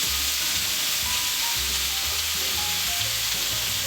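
Steak sizzling steadily in a hot pan, a loud continuous fry with crackling spatter, close up and with no voices.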